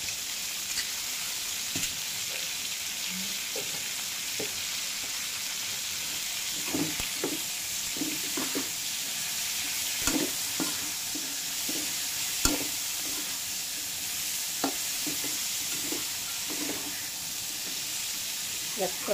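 String beans frying in adobo with meat and dried fish in a pan give off a steady sizzle and hiss, broken by irregular scraping knocks as the mixture is stirred.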